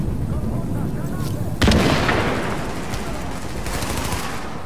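A grenade in the video game The Division goes off with a sudden loud blast partway through, then a rumbling decay. Gunfire and game noise run before it.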